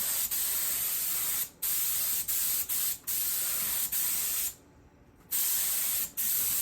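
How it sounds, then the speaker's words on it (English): Steady hissing bursts of low-pressure spray paint mist on a 1:350 scale model ship, close by, broken into several passes with short pauses, one longer gap near the end. "I'm just putting a really super light mist coat, spraying at real low pressure."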